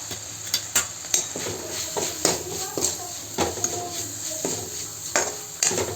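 Ground coriander-cumin powder and red chilli powder are stirred and sautéed in a pan, with a soft sizzle beneath repeated scraping clacks of a spoon against the pan, while someone talks throughout.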